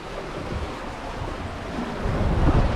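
Wind rushing and waves washing past a sailboat under way with the wind falling behind, a steady broad roar that swells slightly louder toward the end.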